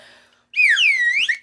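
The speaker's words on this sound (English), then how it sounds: "Now, Josh, try the farfel whistle." A novelty farfel whistle blown once in a loud, sliding warble that rises and falls for about a second, alone after a moment of near silence.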